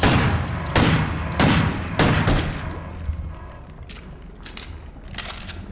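Shotgun firing in the horror video game Crow Country. Four heavy blasts boom at roughly half-second intervals, then a few fainter, sharper shots follow after a short lull.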